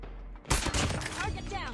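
Rapid gunfire in a shooter video game, a dense burst of close, loud shots starting abruptly and continuing to the end, with voices talking over it.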